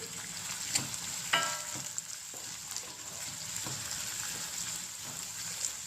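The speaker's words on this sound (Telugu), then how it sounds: "స్పూన్ సాల్ట్ కూడా వేసేస్తాను ఉల్లిగడ్డలు తొందరగా వేస్తాయి" Onions frying in a pan with a spoonful of salt added for a spinach chicken curry, giving a steady soft sizzle with a few brief clinks and stirs, no talking.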